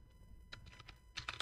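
Code is typed on a computer keyboard in a short burst of close, quick key taps, sparse at first and then clustering more densely.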